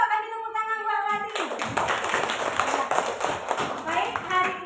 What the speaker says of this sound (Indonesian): Coba kasih tepuk tangan buat Adi